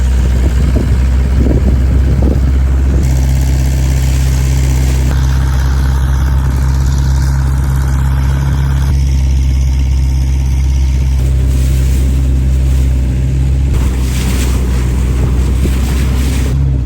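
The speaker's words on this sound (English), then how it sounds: "All you hear is the drone of the engine." A steady, low boat engine drone runs throughout, at sea, with wind buffeting and water noise over it and no voices.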